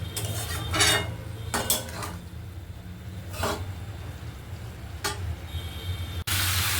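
Paneer and cauliflower curry being stirred in a pan, with a few distinct clinks and scrapes of a spoon against metal over a soft background hiss, ending in a brief burst of noise.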